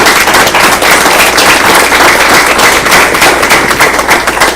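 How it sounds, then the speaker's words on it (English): Attendees at a school board meeting break into loud, sustained applause for a new principal, a dense, close wash of clapping hands with no speech over it. "We give her a round of applause too"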